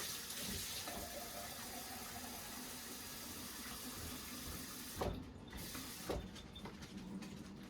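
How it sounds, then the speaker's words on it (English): Cold tap water runs steadily into a glass for a vinegar and sugar pickling solution in a kitchen, a low, even rush with a couple of brief clunks near the end. "fill up the glass to the top with cold water."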